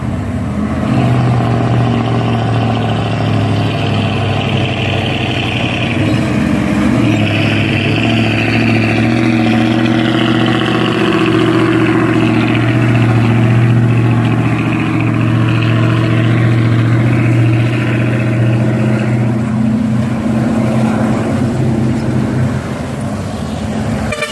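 A heavily loaded truck's engine drones loud and close, a deep steady rumble with shifting tones that holds throughout without any talk.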